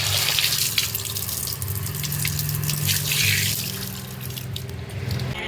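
Hot tap water pours steadily into a sink while someone washes their face, a continuous close splashing rush with no talk.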